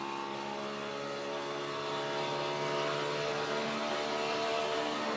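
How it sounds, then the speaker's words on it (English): A NASCAR Cup race car engine failing at the 2013 Auto Club 400, heard from inside the car as a steady, loud buzzing drone that swells slightly partway through. "That's what we call a death rattle, when they just get that."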